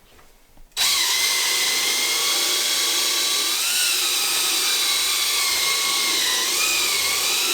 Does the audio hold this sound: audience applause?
no